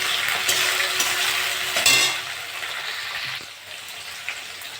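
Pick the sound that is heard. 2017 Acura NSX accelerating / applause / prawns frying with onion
prawns frying with onion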